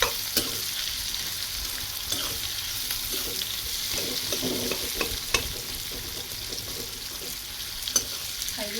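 Chopped onion fries in hot oil in a pan for bitter gourd vegetable, a steady close sizzle with light stirring scrapes and clinks running throughout, no voices.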